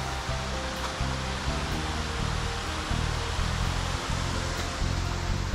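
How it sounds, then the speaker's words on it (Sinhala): Clear water spills over a small weir like a little waterfall in a village at Ramsau bei Berchtesgaden, Germany, giving a loud, steady rushing roar that fills the whole moment without any voices. "හරි ඉතින් දියලක් වගේ තමයි මේක."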